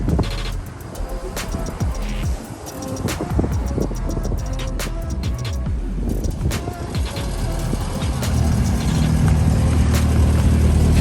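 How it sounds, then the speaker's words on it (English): A Honda B20 VTEC engine in an EK coupe runs loud and steady up close, a continuous rumble that builds slightly toward the end. "Car is running amazing, nice and healthy."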